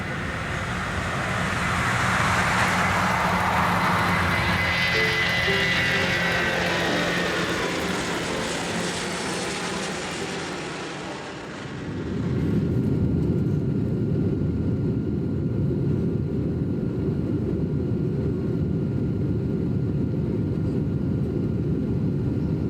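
A stage musical's airplane flight effect: a loud, continuous jet-engine roar swells with a whooshing sweep, dips briefly, then settles into a steady low cabin drone, with no talk over it.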